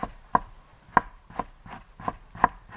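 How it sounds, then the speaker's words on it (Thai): A knife slices eggplant thinly on a board in about six separate sharp chops, evenly spaced and close, with no voices. "หั่นบางๆเลยครับพี่น้อง"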